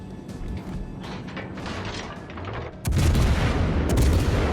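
Heavy cruiser broadsides in a naval battle game, rumbling mechanical booms and rolling gunfire that swell into a louder, denser barrage halfway through, with no talking.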